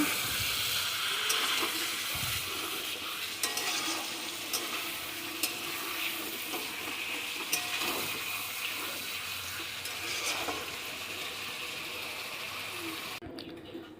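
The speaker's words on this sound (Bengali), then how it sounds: "এই যে মাংসটা কষাচ্ছি।" Meat for biryani sautéing in a pan, giving a loud steady sizzle and hiss with occasional light spoon scrapes and taps throughout, until it cuts off abruptly near the end.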